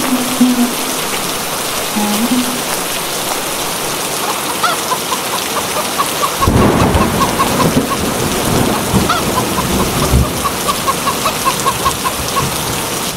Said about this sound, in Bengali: এই যা, বৃষ্টি যে শুরু হয়ে গেল